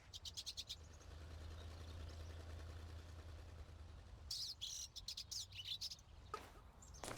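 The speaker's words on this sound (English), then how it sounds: "you'll hear birds chirping" Birds chirp in short bursts near the trees in the game Knockout City, fairly faint over a steady low ambient hum, with clusters of quick tweets at the start and middle of the scene.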